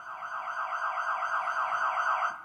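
A siren effect played from a Roland FP-30X digital piano wails steadily and loudly with a fast warbling pitch, sounding alone and continuously throughout.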